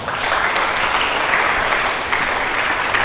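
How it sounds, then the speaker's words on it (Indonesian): A church congregation applauds together, a dense, sustained wash of many hands clapping at close range for the full stretch, with no voices breaking through. "Berikan tepuk tangan."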